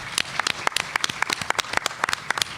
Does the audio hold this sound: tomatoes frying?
no